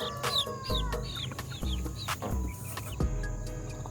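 Young chickens cluck close by, soft and repeated in short bursts, with no one talking.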